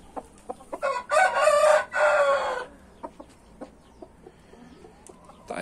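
A strong rooster in a backyard aviary gives one loud, close crow, then scattered short clucks and soft bird sounds follow against quiet background.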